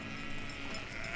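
Faint, distant sheep bleating on a salt meadow pasture near Mont Saint-Michel, a brief call under steady outdoor background noise.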